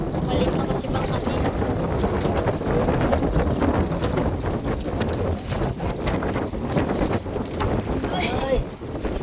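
Strong wind at sea roaring steadily across a small fishing boat heading out in bad weather, buffeting the microphone loudly and without a break, with the rush of water and the boat beneath it.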